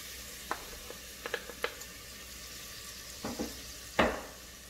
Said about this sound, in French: Sur un feu moyen, on va plonger les oignons.